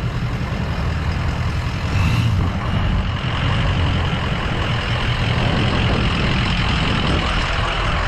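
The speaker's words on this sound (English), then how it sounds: "My dad is in the truck right now spraying the liquid de-icer." A snow plow truck's engine rumbles loud and close while it sprays liquid de-icer on sidewalks, a continuous deep drone with a faint hiss above it and no talk.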